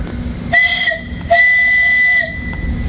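A homemade steam whistle in a garage blows two loud, sustained blasts over a steady steam hiss, the second blast longer than the first, then the hiss carries on alone.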